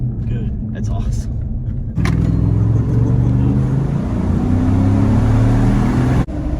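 A tuned Chevrolet Silverado gas truck with a 5.3L V8, held in V8 mode, accelerates hard: a loud, deep engine roar that swells sharply and climbs steadily in pitch, with people talking inside the cab.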